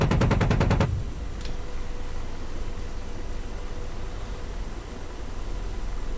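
AH-64D Apache 30mm cannon firing in DCS, a fast burst of about eight heavy, evenly spaced rounds lasting under a second, followed by a steady engine and rotor drone.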